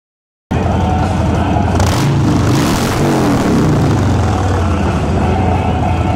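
A motorcycle engine at a motorcycle fair roars and revs continuously, rising in pitch then settling into a steady throaty drone, close by and without talk.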